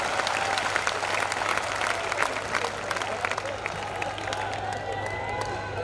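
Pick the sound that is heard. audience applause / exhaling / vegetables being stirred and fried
audience applause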